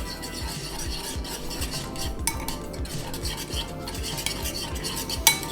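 Homemade cocktail sauce with horseradish and a squeeze of lemon juice is stirred briskly with a utensil in a bowl, a steady run of close scraping and soft clinks with no talking.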